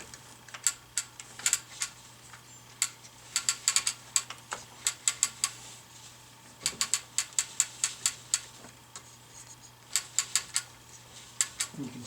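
Loom mechanism clicking as warp threads are wound on past the lease sticks, bursts of sharp ratchet-like ticks in irregular clusters with brief gaps, close and crisp over a low steady hum.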